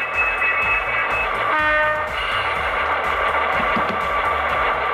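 A model train rumbles and clatters steadily as it comes to a stop, with sustained horn-like tones sounding over the running noise, close by and fairly loud.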